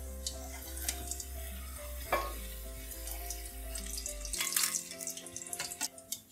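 Chicken kiev balls made from minced chicken sizzle gently in oil over a low flame, a soft continuous frying crackle with some louder bubbling and utensil movement near the end.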